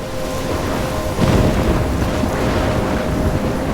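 Stormy wind roars and sea surges in Life is Strange, a steady loud rush of gusting air with a deeper swell of wave noise that rises slightly partway through.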